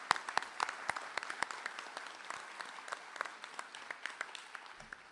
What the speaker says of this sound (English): would you join me in just giving them a round of applause?